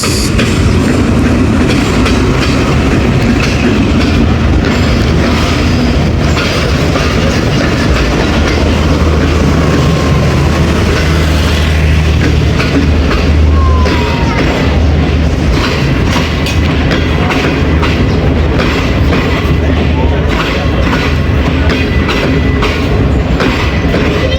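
The Awam Express passenger train runs between Attock City Junction and Rawalpindi, heard from onboard as a loud, steady rumble of wheels on rails with rhythmic clickety-clack and occasional faint squeals, without talking.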